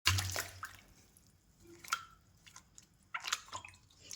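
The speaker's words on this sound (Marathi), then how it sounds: "हे सगळ्यात अगोदर जे ड्रॅगन आहे ना, स्वच्छ पाण्याने धुवून घ्यायचं आहे" Dragon fruit rinsed in clean water to remove surface dust: intermittent wet splashes, drips and squishy handling noises in short bursts, close and fairly quiet, with no talking.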